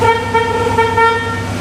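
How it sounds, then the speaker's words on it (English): Horn of an old big-block Chrysler car held in one continuous loud, brassy honk close by, with no voices. "does the horn work?"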